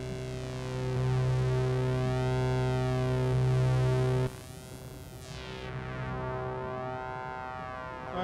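An Erica Synths Black series filter module shown at SuperBooth 2017 processes a patched signal: steady tonal drones with sweeping resonant chirps, dropping to a rougher, noisier texture midway before the sweeps return, with no talking.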